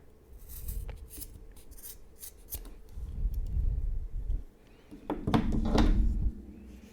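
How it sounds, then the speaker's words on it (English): Scissors cutting yarn for a crochet tassel on a star-stitch bookmark: a few close, crisp snips near the end, after soft rustling and handling of the yarn. "For me, I'll just cut it around here, maybe 2 inches."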